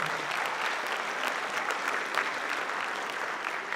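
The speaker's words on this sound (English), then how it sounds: "Give him a round of applause" Applause from a concert audience at a high school spring band concert, a steady wash of many hands clapping on its own at moderate distance.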